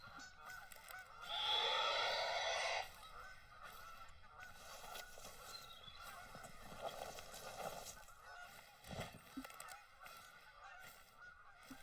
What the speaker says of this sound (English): Maybe it was just a bit of the Canada goose call.